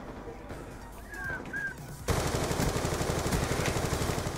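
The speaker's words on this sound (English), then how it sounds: "My horrible shooting will kill you" Call of Duty: Black Ops 2 gunfire erupts into a loud, rapid automatic burst that runs continuously after a quieter stretch of game ambience.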